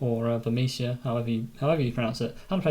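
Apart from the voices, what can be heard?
None of the usual background noises is heard.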